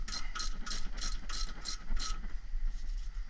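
A ratchet tightening brake bolts on an SVT Lightning pickup, about seven quick, crisp clicking strokes in a regular rhythm, close and clear, then stopping.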